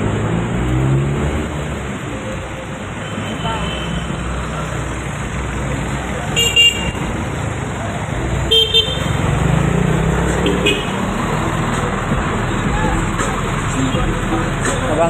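Busy street traffic while waiting roadside for a ride toward Quiapo: a continuous rumble of passing cars, trucks and buses, with short car horn toots breaking through a few times and voices murmuring nearby.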